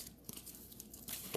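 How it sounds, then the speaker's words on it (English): Tarot cards being shuffled and drawn from the deck, quiet close papery flicks, slides and crinkling taps in an irregular run, ending with a louder brushing riffle, no talking. "Okay, I'm going to shuffle for you, Olga."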